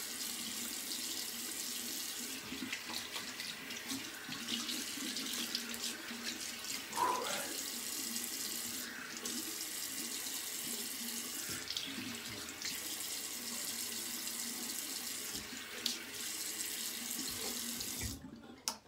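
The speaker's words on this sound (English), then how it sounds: "All right, so cold water rinse." A tap runs steadily for a cold water rinse after a shave with an aluminum Karve Christopher Bradley razor, a continuous close splashing flow into the sink with a few brief shifts as hands pass under it.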